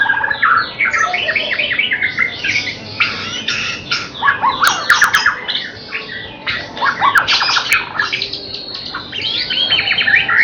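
A young songbird of Bahorok lineage, in training, calls close by in rapid bursts of squawks, chirps and trills that go on throughout without pause and with no talking.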